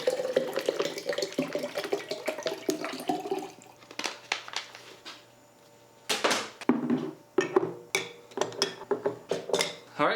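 Water is poured into a glass jar in a few separate bursts, close and fairly quiet, with brief pauses and light clinks between pours.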